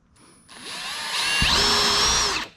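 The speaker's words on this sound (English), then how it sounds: "We're going to actually go ahead and drill one side." A power drill bores a hole through plastic on a 2020 CFMOTO CFORCE side-by-side, a steady close whine that rises as the bit bites in, then stops after about two seconds.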